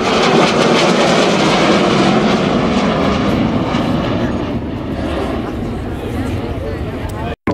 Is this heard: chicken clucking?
no